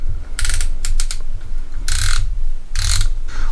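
A Hercules 12V 3/8-inch cordless ratchet clicks and whirs in several close, loud bursts of ratcheting, separated by brief pauses.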